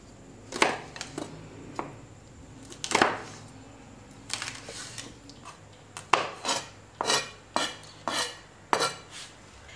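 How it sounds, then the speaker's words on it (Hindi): Two green chillies chopped with a knife on a board, sharp close knocks coming in irregular bursts, then a quicker run of rhythmic chops toward the end, alone without talk. "दो हरी मिर्चों को छोटा छोटा काटना है।"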